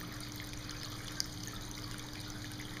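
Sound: tabletop fountain water cascading cup-to-cup

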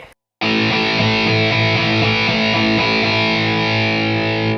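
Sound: electric guitar through distortion effect, volume lowered with switch

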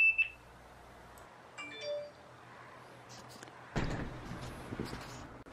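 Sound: Yi outdoor security camera motion alarm beeping

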